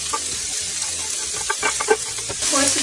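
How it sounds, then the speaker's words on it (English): Onion and garlic sauté in hot oil for a granny-style turkey and venison sausage chili, a steady close sizzle with scraping and stirring from a wooden spoon running throughout. "we are going to saute our onion and our garlic"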